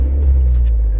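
A Honda Logo car driving, a steady low engine and road rumble that stays loud and close throughout, with no one talking.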